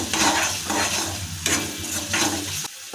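A ladle stirs salted spices around a kadai on low flame for egg tadka, with a steady sizzle and several distinct scraping strokes, the last one ending abruptly.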